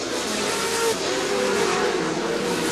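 Off-road race trucks, including the number 7 Amsoil truck, roar around the CORR short-course track at Chula Vista in 2008, a dense, continuous, loud engine blare with no pauses.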